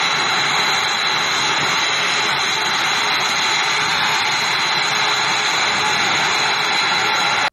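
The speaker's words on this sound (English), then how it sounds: "This is the loudness you get when an F-22 prepares for takeoff." An F-22 fighter jet engine runs up before takeoff, a loud steady roaring whine with a piercing high tone and constant low rumble, close and unbroken throughout.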